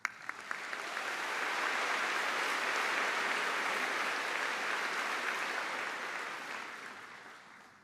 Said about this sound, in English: Please join me in welcoming her with a round of applause